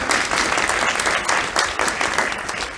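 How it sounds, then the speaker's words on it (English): A crowd at a campus talk at UWM cheers and claps. The dense, steady applause runs loud and close through the whole moment, with no clear speech. "Somebody tell Yanette that the crowd went crazy"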